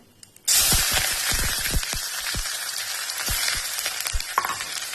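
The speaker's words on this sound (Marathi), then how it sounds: "कांदा हिरवी मिरची आणि लसण टाकून घेत्या" Onion, green chili and garlic hit hot mustard oil with a sudden loud burst of sizzling, then keep frying vigorously with crackling pops and scattered stirring clatter.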